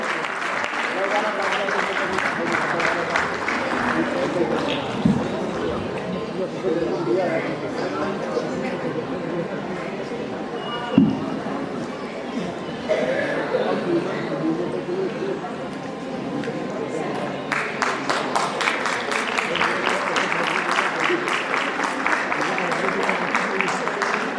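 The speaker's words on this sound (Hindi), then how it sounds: "कृपया जोरदार तालियों से श्रेया जी का स्वागत करें।" An audience at a ceremony applauds warmly to welcome a speaker. The clapping is dense and steady, sustained throughout with some chatter mixed in, and swells briefly louder toward the end.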